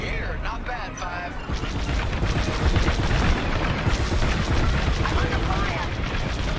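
Starfighter weapons blast in a Star Wars: Squadrons space battle, a dense, loud, continuous barrage of rapid shots and booming impacts, with a voice talking over the combat.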